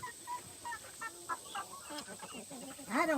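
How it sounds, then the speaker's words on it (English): Backyard flock of hens and roosters in Georgia clucking and squawking, several short calls scattered through the stretch with a louder, nearer cackle at the end. "I don't know if I've got hens or roosters"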